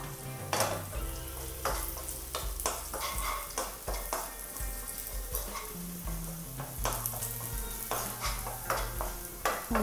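Vermicelli and raisins stirred as they fry in a pan for semiya payasam: a steady sizzle runs throughout, with repeated scraping and clinking strokes of a spoon against the pan, close and moderately loud, with no talking.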